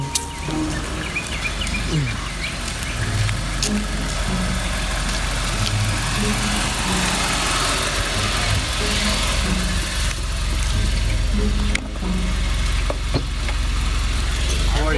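Car engine idling steadily throughout a ride, a continuous low drone heard from inside the vehicle for the whole stretch, with faint bird chirps in the background.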